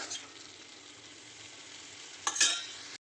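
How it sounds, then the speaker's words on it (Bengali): Spice paste sizzling and frying in a hot pan as it is stirred with hot water, a steady close hiss with a louder scrape and sputter of stirring near the end. "গরম জল দিয়ে দিয়ে কষাতে থাকবো।"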